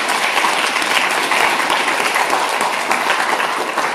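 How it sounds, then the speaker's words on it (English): Symposium audience applauding an honoree, loud continuous clapping from many hands, even and sustained throughout without any voices. "And Mark, we're going to give you applause now."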